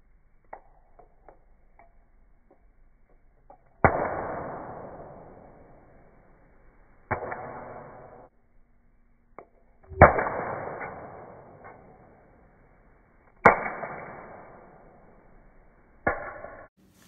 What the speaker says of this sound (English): I'm going to drop one magnet in each tube, and this time you should be able to hear and see them hit the ground at different times.